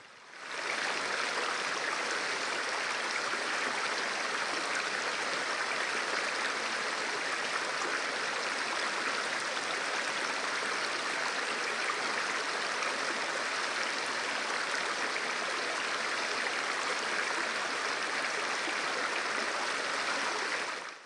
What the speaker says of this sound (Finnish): oli rentouttavaa katsella veden leikkiä joen kivikkoisissa uomissa